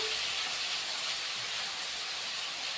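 Potato and eggplant pieces dropped into hot oil in a pan for a vegetarian methi shak dish, giving a steady loud broadband sizzle that holds throughout without pause.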